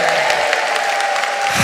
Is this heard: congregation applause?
yes